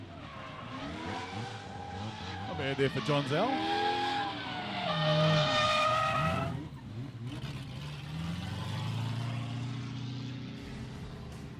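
A drift academy race car skidding with tires squealing, the engine revving and the squeal rising then fading, moderately distant, while a commentator talks over it.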